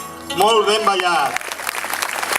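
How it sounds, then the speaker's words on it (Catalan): An audience at an outdoor folk dance performance breaks into applause just after someone speaks. The clapping builds into a steady wash that carries on to the end. "Un aplaudiment per estos balladors"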